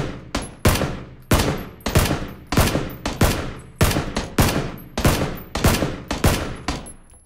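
Video game gunfire in PUBG: about a dozen sharp, loud shots fired at an even, rapid pace, each with a short decaying tail, and no talking.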